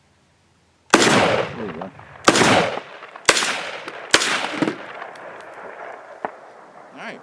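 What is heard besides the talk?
rifle shots in 5.56, like an AR-15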